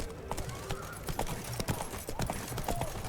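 Horse hooves clip-clop in a steady, close rhythm on a road in The Witcher 3, carrying on throughout over a low game ambience.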